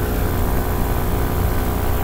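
Engine of a small propeller airplane in flight with a stuck throttle, a steady, loud, droning hum heard from inside the cabin, unbroken and without talk.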